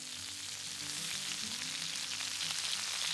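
Pork chops sizzle in a skillet at a campsite, a steady, close, broadband hiss of frying fat that carries on without a break, with no voices.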